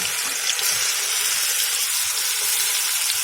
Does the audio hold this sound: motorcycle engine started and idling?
no